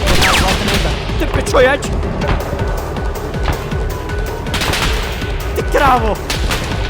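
Rapid gunfire bursts from the video game Arma crackle loudly and repeatedly, with sharp shots and fusillades layered under excited shouting voices.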